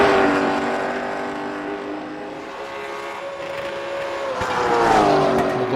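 A race car on its first lap around Five Flags Speedway, a short oval track: the engine drones steadily at a distance, then rises in pitch and volume as it nears and passes, with a faint announcer voice underneath.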